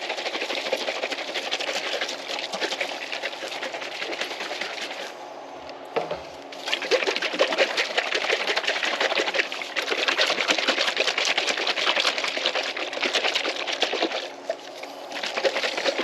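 A 2.5 quart pail of Duplicolor molten red paint with gold pearl is shaken hard, a steady rattling slosh that runs nearly continuously and close, with one brief pause around the middle.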